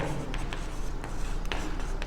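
Quick strokes of writing on a board during a commerce maths lesson, scratchy marks coming in short bursts close by, with no voices.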